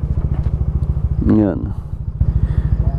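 Several motorcycles idle together at a farm lodging in Antipolo, Rizal as the riders warm up the engines, a loud rhythmic putter with a brief revving rise, while someone talks over it.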